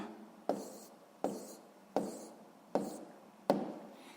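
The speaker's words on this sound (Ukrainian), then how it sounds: "Пишемо відповідь." Pen strokes write an answer on paper, five distinct taps each followed by a short scratching stroke at an even, unhurried pace, close and quiet.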